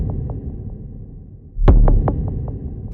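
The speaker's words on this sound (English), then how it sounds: "chuck a shitload of reverb on a kick and have it sound amazing" A single deep, booming kick drum hit with cathedral reverb and saturation in Ableton swells into a long, washy reverb tail, preceded by soft rhythmic thumps.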